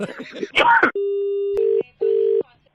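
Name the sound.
telephone hang-up tone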